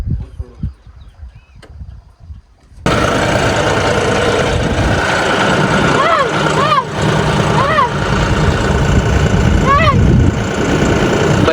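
A small four-wheel-drive tractor engine runs loud and close once it starts, a steady throbbing drone while the tractor works. Voices talk over it.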